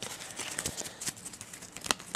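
Yu-Gi-Oh trading cards shuffled by hand, heard as a close, fairly quiet run of quick papery flicks and crinkly riffles with no talking.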